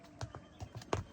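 A horse carrying a load of onions walks along a farm path, its hooves giving soft, steady, evenly spaced clip-clops at a distance.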